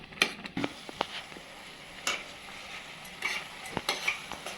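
Vegetable sandwich filling being stir-fried in a pan, a quiet soft sizzle broken by scraping and clinking of a spoon against the pan in irregular bursts, close and without speech.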